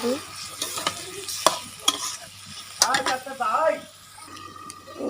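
Meat stir-fries in a pan with a loud sizzle under repeated scraping stirs and sharp utensil knocks, and the crackle surges with each toss.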